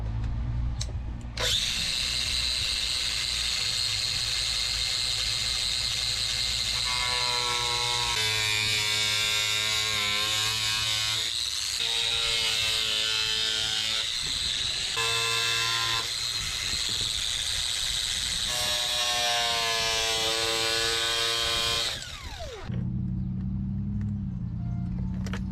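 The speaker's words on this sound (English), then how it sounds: "We are finally done with the cutting of the center console." Power tool cutting the center console of a K24-swapped Honda EG hatch, a continuous loud high-pitched whine with varying pitch as the blade bites, running alone for over twenty seconds before stopping.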